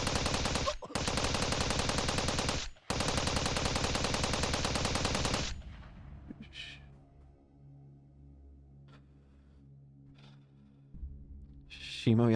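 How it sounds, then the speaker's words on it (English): Gunfire in the visual novel Steins;Gate 0: long, loud bursts of rapid automatic shots with two brief breaks, then a quieter stretch of faint tones and soft sounds. "Shimoyama's scream was cut off by the sound of gunfire."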